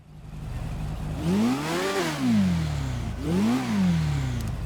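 A motorcycle engine in GTA 5 Online revs up and back down twice in quick succession, loud and close, with a rising and falling whine.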